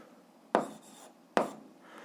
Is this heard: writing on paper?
yes